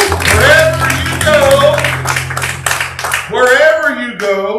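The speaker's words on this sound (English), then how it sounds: "Give the Lord a hand clap of praise." Church congregation clapping hands in praise during a service, steady rhythmic clapping mixed under loud sung or shouted voices and organ-like tones.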